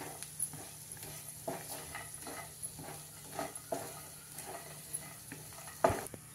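Grated dry coconut and peanuts roast in oil in a pan, with soft, irregular spatula scrapes and taps over a faint, steady sizzle, and nobody speaking.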